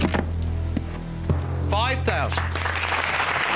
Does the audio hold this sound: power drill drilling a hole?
no